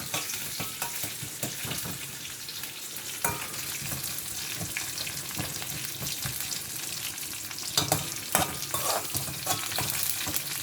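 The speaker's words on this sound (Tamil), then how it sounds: "வெங்காயம் கொஞ்சம் கோல்டனாக வரட்டுக்கும்" Onions fry for a banana flower stir-fry, sizzling steadily while a spoon scrapes and stirs the pan in irregular clattering strokes, close and continuous; no speech.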